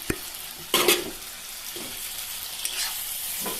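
Eggplant frying in a pan, a soft background sizzle broken by a few sharp stirring scrapes and clatters close by, with no voices.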